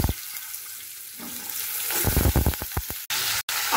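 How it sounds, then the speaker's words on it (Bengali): Diced potatoes hit hot mustard oil tempered with black cumin seeds, giving a steady sizzle that swells into crackling bursts and spatters, close and fairly loud, with no one talking. "সেই আলুগুলোকে এবার তেলে দিয়ে দেব"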